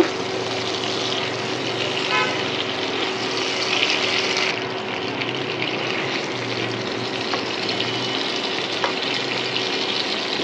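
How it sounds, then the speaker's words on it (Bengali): Sliced flat beans and potatoes frying in a pan, a steady, loud, broadband sizzle that holds evenly throughout with a faint low hum beneath. "আর এদিকে হচ্ছে শিম আলু ভাজি করছি।"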